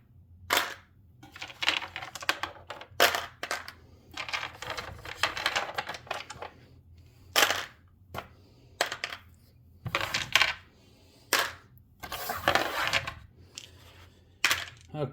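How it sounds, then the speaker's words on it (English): Plastic dice rattle and clatter in repeated short bursts as they are scooped up and dropped away during a tabletop World War I wargame set in Germany, spring 1915, close and distinct with brief pauses between handfuls. "So let's get these dice put away here quickly."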